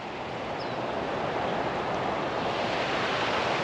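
Floodwater pours over a road beside an orchard at flood stage, a dense, steady roar of rushing water, loud and close, with no voices.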